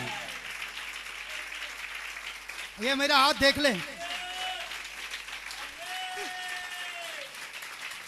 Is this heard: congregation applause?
yes